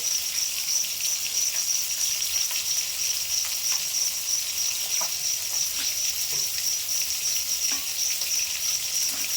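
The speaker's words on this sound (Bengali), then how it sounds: "মাছ ভাজা হতে থাক" Small mixed fish frying in hot oil, a steady, continuous close sizzle with faint crackles throughout and no voices.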